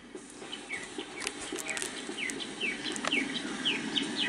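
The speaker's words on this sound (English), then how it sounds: "The whole thing was the bird noises just now." Outdoor birdsong: repeated short chirping calls at a steady rhythm, moderately near, over a soft background hum with no talking.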